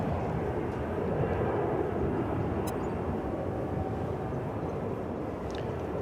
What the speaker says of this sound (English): And meanwhile, we've got a Frontier flight